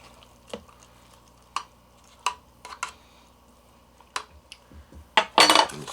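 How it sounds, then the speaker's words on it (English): A utensil stirs freeze-dried curry noodles inside a pouch, giving a few separate light clinks and scrapes that end in a brief, louder rustling squish. "Give that a good stir"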